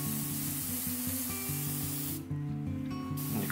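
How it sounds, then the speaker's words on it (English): A can of standard silver spray paint hisses in short bursts over a Warhammer 40k Necron model. Steady background music plays underneath, and one brief pause breaks the spraying. "I'm using just standard silver, and I'm just going to do top-down spray with this one"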